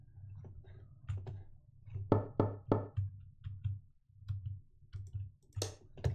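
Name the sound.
knocking on the apartment's front door, from a video game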